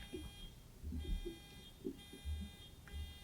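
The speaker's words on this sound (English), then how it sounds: "let's go ahead and check our buzzers" Quiz bowl buzzers being tested before a high school match, a few short electronic tones sounding one after another in a room with low background noise.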